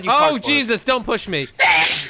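A sharp sneeze bursts out near the end, right after a few spoken words, close and loud against the quiet background of a Minecraft session.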